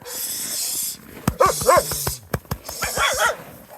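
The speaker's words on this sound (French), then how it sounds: "grâce à Maître Elio juste derrière, on a développé une technique pour que tous les petits chiots viennent dans notre petit sac pour les ramener à Grenoble" Several puppies in Lapland yip and bark in quick, high-pitched bursts close by, over a steady background hiss, without talk.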